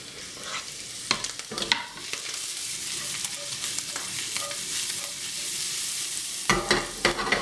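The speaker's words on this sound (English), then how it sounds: "So my pancetta's just starting to crisp up now." Chopped onion and pancetta frying in a pan, a steady moderate sizzle with intermittent scraping taps of a utensil stirring, louder bursts of stirring near the end, no speech.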